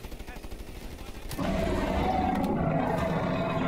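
Video game gunfire rattles in dense, rapid bursts that grow into a loud, continuous barrage of shots close to the listener.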